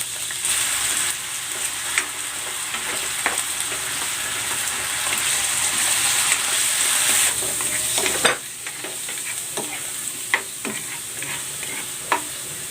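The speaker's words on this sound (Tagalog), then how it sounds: "Iprito ko muna itong carrots" Carrots and potatoes frying in cooking oil give a steady close sizzle with occasional stirring clatters and sharp utensil taps, the crackle briefly surging then easing near the end.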